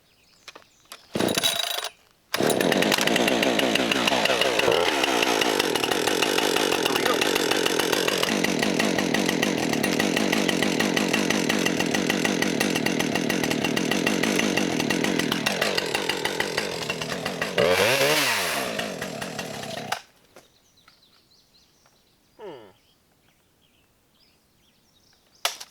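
Husqvarna 550XP chainsaw cutting firewood outdoors in Boise, starting with a short rev, then running loud and steady for most of the cut with pitch dips as the bar bites the wood, before cutting off into quiet.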